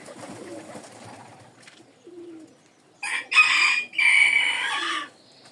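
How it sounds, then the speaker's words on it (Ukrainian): Small doves coo in soft low notes, followed by a loud, bright burst of bird calls in two long phrases, close and clear. "Такі це голубочки."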